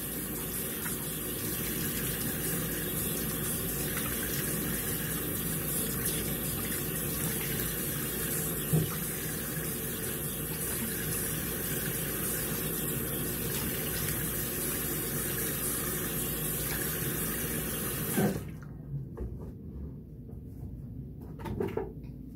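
Water runs steadily from a tap while a face is rinsed, a close, continuous gush with small splashes for about eighteen seconds, then it stops abruptly into near quiet.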